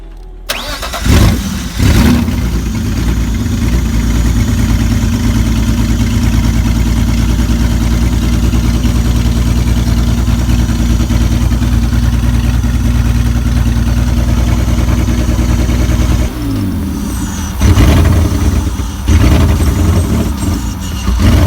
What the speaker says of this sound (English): you could tell that the car was loud, sounding very straight piped